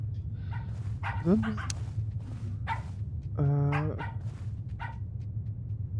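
Game puppies in the horror video game Pacify give a couple of short, odd yelping barks and a whimpering rise, heard amid speech and a steady low hum.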